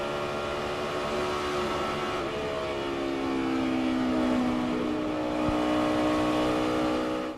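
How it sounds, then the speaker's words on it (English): Stock cars in a 2006 NASCAR Busch Series race accelerate together, a dense layered engine roar with rising pitch as drivers get back on the gas, loud and continuous throughout, with no talk. "If you listen, you really can hear them get back on the gas."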